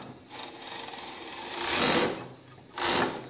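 Sewing machine closing the bottom seam of fitness-style women's underwear, running in two sustained bursts of stitching with a quieter mechanical hum between them, close and fairly loud with no talking.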